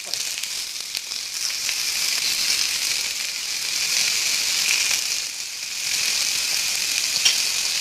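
Bread toasting with chili in a hot pan for a vegetable sandwich, giving a continuous bright sizzle and hiss that swells and eases over several seconds, close and steady with no voices.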